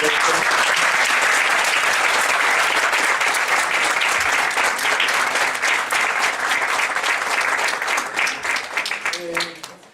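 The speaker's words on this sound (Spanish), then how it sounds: "Pido un fuerte aplauso para el doctor." Audience applause at a university keynote lecture honoring a doctor: dense, loud, sustained clapping from a large crowd that holds steady for most of its length, then thins and fades near the end.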